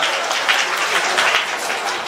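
A crowd applauds steadily and loudly throughout, dense clapping welcoming a guest at the opening ceremony of a higher-education arts and culture festival at Ubon Ratchathani Rajabhat University.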